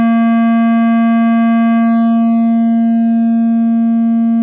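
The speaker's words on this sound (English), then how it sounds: "This is a vectoral-based distortion unit for your modular." A DIY ST Modular Clipping Cat vector distortion module on a modular synth sounds a steady, loud, buzzy sustained tone, its bright upper harmonics sweeping downward partway through while the fundamental holds, with no talking.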